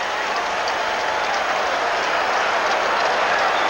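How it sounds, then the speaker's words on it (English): Dense roar of a baseball stadium crowd cheering at a Mets home game against the Dodgers, a steady wash of loud distant voices and applause throughout with no break. "And the crowd loves it."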